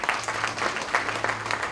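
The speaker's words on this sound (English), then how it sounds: "We have to give him another round of applause." Brief burst of audience clapping at a campaign event in Uganda, moderately loud with uneven claps over a low steady hum.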